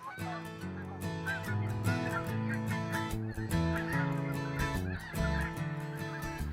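White-fronted geese call in flight during a tumbling landing approach, a dense, continuous chorus of overlapping honks and yelps from many birds, steady and fairly loud with no voices.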